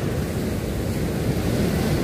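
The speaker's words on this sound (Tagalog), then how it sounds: "Ayan ang dagat. Ang lalaki. May alon." Big sea waves churn ahead of an approaching typhoon, a loud, steady roaring wash with wind noise buffeting the microphone and no talk.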